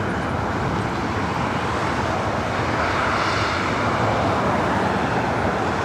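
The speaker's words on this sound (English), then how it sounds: "Alaska Airlines flight 1127, a 14-year-old 737-800" A 14-year-old Alaska Airlines Boeing 737-800 jet taxis at LAX before departing for Portland, giving a steady, loud, broadband engine roar that swells slightly toward the end, with no one talking.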